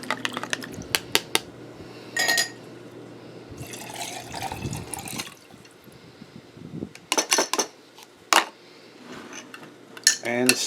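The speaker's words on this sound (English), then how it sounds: "I'm going to stir this up a little and try to make sure I get all the aloe vera that was left in there" Metal utensil clinking and scraping against a bowl while stirring rubbing alcohol and aloe vera gel for homemade hand sanitizer, in irregular bursts of clatter separated by quieter stretches, close and fairly loud.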